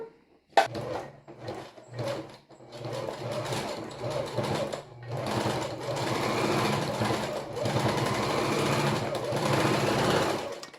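A domestic sewing machine stitching a swimmer-style bra, running in steady bursts of close, loud mechanical chatter with brief stops between runs.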